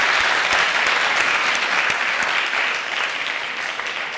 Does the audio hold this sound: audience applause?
yes